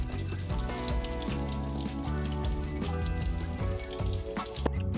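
Shrimp sizzling and frying in a hot pan, a loud, steady crackling hiss filling the whole stretch with no talking.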